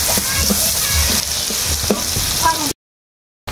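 Garlic stirred and fried in a hot pan for a home-style tomato rice and chicken meal, a steady loud sizzle with scraping stirs, then a sudden brief silence before the frying resumes.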